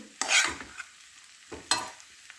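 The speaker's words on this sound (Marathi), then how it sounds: "रातभर भिजवलेले शाबुदाणे घालणार आहोत चांगले घालून मिक्स करून घ्यायचं आहे" Overnight-soaked sabudana tapioca pearls being stirred and mixed in a pan for fasting khichdi, two short bursts of scraping and soft sizzle separated by a quiet pause, close and fairly faint.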